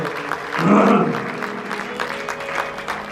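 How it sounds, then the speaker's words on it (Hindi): A devotional audience at a Ramcharitmanas Aranya Kand recitation claps, with a loud swell of applause that fades into a lighter, steady patter under a faint murmur. "ताली बजाओ तो प्रेम से बजाओ"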